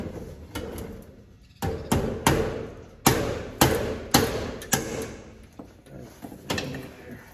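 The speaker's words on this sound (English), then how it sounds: "Get you a block and a hammer and you hit that." A hammer strikes a block during repairs, about a dozen sharp, loud knocks at uneven intervals, each followed by a short ringing decay.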